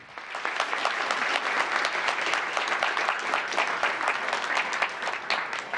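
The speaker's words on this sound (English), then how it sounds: "Another big round of applause for Group 2." A roomful of people applauds a student group at a town council meeting, with crisp, rapid, closely packed claps holding at a steady level for several seconds.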